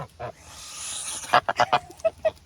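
Several loud geese honk in quick bursts, close by, after a stretch of softer background noise and faint rustling.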